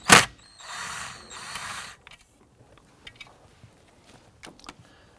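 An 8mm socket ratchet backs out glove box screws in an Acura TL, starting with a sharp knock, then two stretches of rapid ratcheting clicks, followed by faint scattered ticks and small metallic taps.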